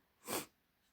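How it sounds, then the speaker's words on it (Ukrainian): A single short, breathy sneeze after frying potatoes with pepper, heard once up close, soft and quiet against a low background. "вирішила чхнути саме тоді, коли відео записувала"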